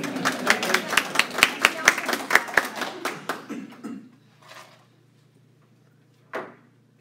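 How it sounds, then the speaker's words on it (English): Audience clapping at a Toastmasters contest, a brisk run of close, distinct claps that thins out and stops after a few seconds, followed by near quiet with a couple of isolated soft knocks or rustles. "At Toastmasters, you usually clap the entire time until someone gets right there."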